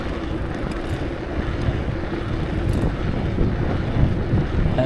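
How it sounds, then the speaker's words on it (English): Wind roars steadily and fairly loudly across the microphone during a bike ride, a broad continuous rush with no clear pauses and no talking. "South wind."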